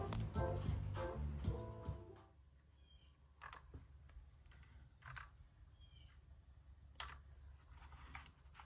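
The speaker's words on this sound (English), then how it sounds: "inputting the chords using the keyboard" Chords typed on a computer keyboard into Band-in-a-Box accompaniment software: after a few seconds of music, a handful of sparse, faint key clicks sound with quiet gaps between them.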